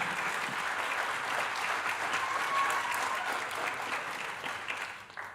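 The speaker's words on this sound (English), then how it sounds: "we can clap, it's good" Audience clapping at a school board meeting, a sustained even round of applause from a roomful of people that tapers slightly at the end.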